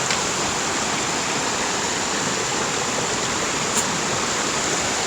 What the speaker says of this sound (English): a lot of water's coming through here